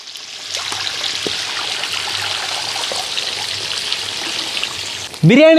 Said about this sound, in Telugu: ఎసురు పెట్టుకోవడానికి సట్లో నీళ్ళు పోసుకుందాం